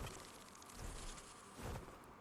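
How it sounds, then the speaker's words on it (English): Bees from a beehive in Ark, a faint steady buzzing drone with slight swells, quiet and continuous throughout. "then the little bees come out and attack you"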